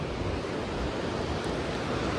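A river rushing beside a mountain road, a loud, constant broadband roar of flowing water, close and steady without pause or voices.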